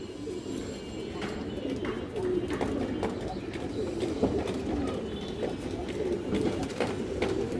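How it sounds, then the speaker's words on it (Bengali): A female fancy pigeon and its loft mates coo in continuous low, throaty murmurs, close and fairly loud, with occasional faint clicks and rustles throughout. "কবুতরটা অনেক সুন্দর একটা মাদি"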